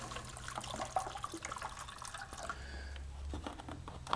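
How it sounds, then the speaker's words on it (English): Water runs from a tap into a pot being filled around a can of beeswax, a steady close splashing and trickling with a deepening tone toward the end. "You're going to put the can into a pot, and you're going to fill that with water."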